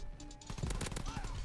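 Dense, rapid automatic gunfire from the World War II shooter Call of Duty WWII in online multiplayer, where an M3 submachine gun is in use, rattles loudly and continuously in a close burst.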